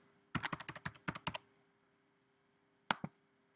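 Quick keystrokes tap out a page title on a computer keyboard, a close burst of about ten crisp clicks, then a pause and two final presses, with no voices.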